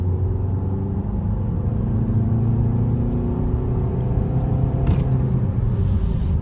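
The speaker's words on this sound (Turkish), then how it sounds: "Arkadaşlar araç sportta şöyle müsaitlikte bir ara hızlanmasına da bakalım. Şimdi ayağım dipte." A Peugeot 508 sedan with the 1.5 BlueHDi engine, driven in sport mode at full throttle, gives a steady heavy drone of engine and road rumble heard from inside the car throughout.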